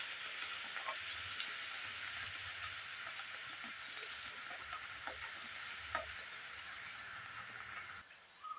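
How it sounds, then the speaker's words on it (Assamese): Roti frying in hot oil for a meal with taro leaves curry, giving a steady close sizzle and hiss throughout with faint crackles and a few light utensil taps. "এইদৰে মই গোটেই ৰুটিখিনি ভাজিও ৰেডি কৰি লওঁ"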